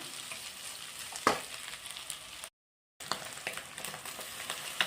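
Rice added to a hot pan for chicken fried rice fries with a steady broadband sizzle, a sharp clatter of the rice and utensil hitting the pan near the start, then a short silent gap before the frying resumes.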